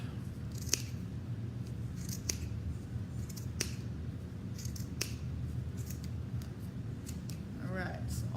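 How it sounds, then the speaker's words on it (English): Small scissors snip yarn on a pom pom maker in a series of sharp, close clicks spaced a second or so apart, with a faint voice briefly audible near the end. "I'm gonna snip, snip, snip."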